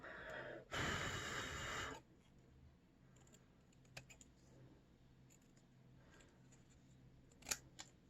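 Scissors cut coloured paper for a craft: a pirate captain pencil decoration folded from paper. One loud, close snipping burst lasts about a second, followed by faint clicks and soft handling sounds in a quiet room.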